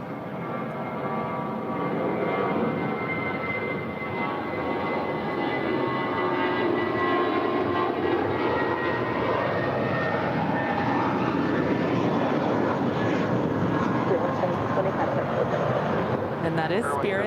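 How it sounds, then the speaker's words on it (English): A Spirit Airlines jet airliner takes off at LAX, its engines giving a steady, broad roar that swells slightly over time. A voice talks faintly underneath. "And that is Spirit 1720, making the short hop over to Las Vegas."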